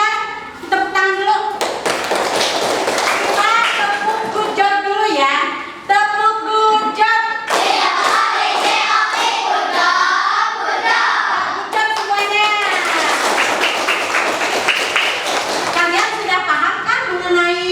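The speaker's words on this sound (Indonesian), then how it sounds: "Tepuk tangan dulu." A school class claps together in irregular bursts, with children's voices and chanting mixed in throughout.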